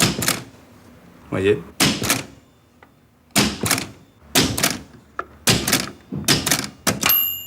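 Keys of an early 1900s gendarme's stylus typewriter with a papier-mâché cover are pressed in sharp, separate clacks and thunks, irregularly spaced, close and loud, with someone speaking briefly between them.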